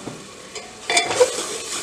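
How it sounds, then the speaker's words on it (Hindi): Finely ground tomato puree poured into a hot frying pan for a potato, peas and wadi curry made without onion or garlic, with a soft sizzle and a few stirring scrapes, close by with no voices. "अब टमाटोज जो हैं हमने मिक्सी में करके रखे हुए हैं प्योरी बना के, ये हम डाल देंगे।"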